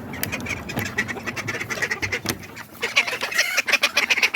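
Ducks quack repeatedly in a barnyard during a snowmelt walk, a busy run of fairly close, overlapping calls that grows denser toward the end, with no talking.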